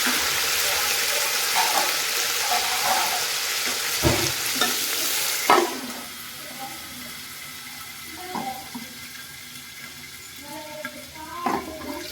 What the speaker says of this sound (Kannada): ಎಣ್ಣೆ ಸ್ವಲ್ಪ ಕಾದ್ಮೇಲೆ ಒಂದು ಸ್ವಲ್ಪ ಸಾಸಿವೆ, ಒಂದು ಸ್ವಲ್ಪ ಕರಿಬೇವಿನ ಸೊಪ್ಪು ಮತ್ತು ಒಂದು ಈರುಳ್ಳಿನ ಹಾಕ್ಕೊತಾ ಇದ್ದೀನಿ